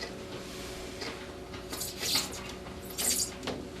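A razor blade makes a shallow cut through cork tape on a surf rod blank, giving soft scraping rubs with a few brighter rasping strokes, quiet and close, with no talking.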